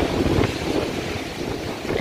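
Strong gusts from Hurricane Fiona outside a house in Bermuda, a continuous rough roar of wind buffeting the microphone at close range.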